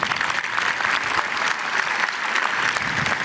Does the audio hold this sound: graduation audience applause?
yes